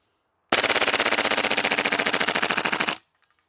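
Double Eagle M4A1 airsoft gas blowback rifle, an MWS-system Daniel Defense copy, fires a full-auto magazine dump: a loud, rapid, even stream of shots for about two and a half seconds, then stops abruptly with faint clicks after.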